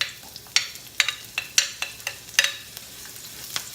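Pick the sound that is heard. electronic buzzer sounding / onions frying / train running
onions frying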